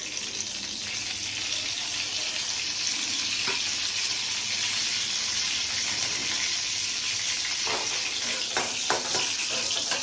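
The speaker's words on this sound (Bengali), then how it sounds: "দুটো কাঁচা লঙ্কা শুকনো লঙ্কা দিচ্ছি, আর কালো জিরে দিচ্ছি ফোড়ন" Green and dried red chillies with nigella seeds tempering in hot oil for banana stem with egg, a steady hissing sizzle with occasional spatters and crackles toward the end, close and moderately quiet, no speech.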